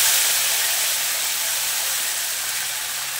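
Marinated spice paste hitting hot oil seasoned with bay leaf and whole garam masala, giving a loud, steady, bright sizzle that continues evenly and fades slightly.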